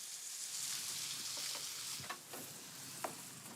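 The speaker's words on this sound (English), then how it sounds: "I'm gonna add the cream to it and let this simmer." Mushrooms, potatoes and onions simmering in cream in a pan, a soft, faint steady sizzle with a few light clicks and stirs near the end.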